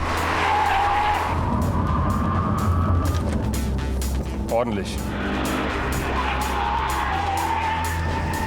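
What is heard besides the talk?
sports car braking hard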